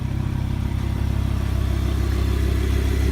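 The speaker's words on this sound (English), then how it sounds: "Very impressive engine." A 2017 supercar engine, Audi R8 V10 Plus or Lamborghini Huracan LP610-4, runs steadily in its engine compartment with a deep, even idle hum, close and continuous, with no talk.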